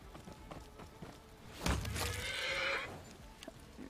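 A horse in the fantasy video game Pathfinder: Wrath of the Righteous gives a loud, rising whinny lasting over a second, followed by faint hoof thuds against a quiet backdrop.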